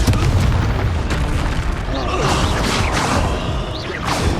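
Loud blasting explosions from the Confringo fire spell in the Hogwarts Legacy video game, a dense run of booming bursts and crashing whooshes that fills the whole stretch with no letup.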